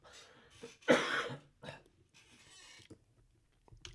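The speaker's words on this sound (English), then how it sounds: "I'm going to cough." A single close cough followed by softer throat clearing and a few quiet breathy sounds, no talking.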